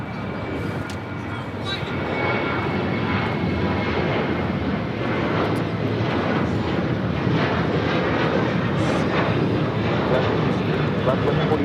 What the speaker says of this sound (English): This is Alaska Airlines 1148 taking off to Portland, Oregon on a 737-900ER.